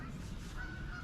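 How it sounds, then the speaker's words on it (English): Geese honk briefly at a distance over a low, steady background rumble, by a creek mill race. "Lots of geese in here."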